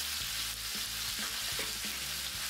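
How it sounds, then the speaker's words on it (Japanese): Skin-on chicken steak sizzles in a hot pan, oil crackling and spattering in a steady close hiss with scattered sharp pops and a few light clinks of a utensil, no voices. "どんどん油が飛んじゃうので"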